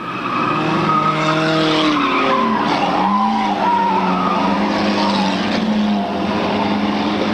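A race car getting loose in the corners skids with sustained, loud tire squeal whose pitch wavers and slides over several seconds, with engine noise underneath and no talk.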